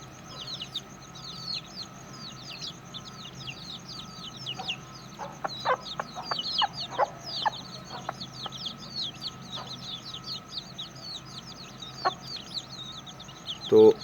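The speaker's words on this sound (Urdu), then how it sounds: "ایک جو چوزے ہیں جو چھوٹے ہیں ان کو میں پھر بتاتا چلوں، وہ ابھی 3 دن کے ہیں" Three-day-old Aseel chicks cluck and chirp in a steady stream of high, quick peeps, joined by louder clucking calls from nearby fowl, with no talk over them.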